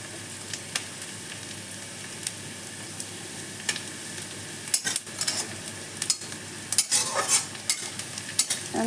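Onions frying in a pan with nigella seeds over raised flame, a steady soft sizzle broken by occasional spoon scrapes and clicks, growing busier toward the end, close and without talk.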